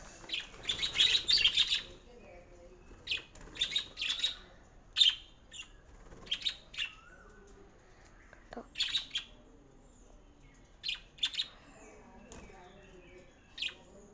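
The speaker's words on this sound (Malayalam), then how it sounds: "കിളിയുടെ ഒച്ച കേൾക്കാൻ പറ്റുന്നുണ്ടോ എന്ന് എനിക്കറിയില്ല." Garden birds chirp in bright, short bursts of tweets scattered through the recording, fairly close, with occasional squawks and soft background sounds.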